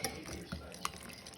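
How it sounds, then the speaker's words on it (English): A whisk stirs Korean beef bulgogi marinade in a bowl, making a soft, quiet swishing with a couple of faint clinks against the side over a brief moment. "I'm going to whisk this all together."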